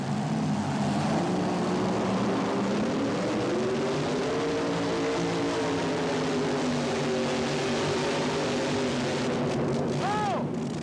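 A 1923 Model T bucket drag car with a Rodeck engine races down the strip, its loud, continuous engine roar filling the whole stretch while an announcer talks over it.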